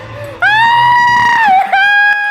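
A single sustained, piercing scream held for about two seconds, loud and close, during a horror-style hide-and-clap game.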